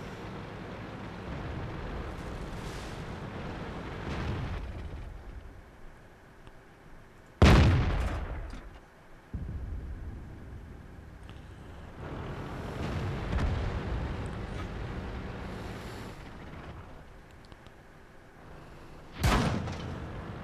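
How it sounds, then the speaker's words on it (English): Tank cannon fire in World of Tanks, with two sharp, loud booming shots several seconds apart over a low rumbling engine and battle background. "Getting shot by invisible tanks."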